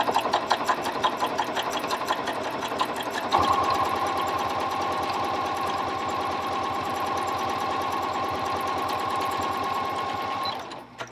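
A Janome Continental M7 sewing machine stitching through 12 layers of denim, running at a steady, fast, even mechanical rhythm that speeds up slightly before stopping near the end, close and clear, with no talking.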